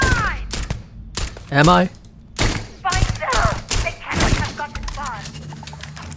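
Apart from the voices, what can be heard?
enemy weapons firing in Starfield video game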